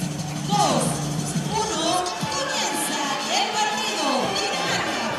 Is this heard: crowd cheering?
yes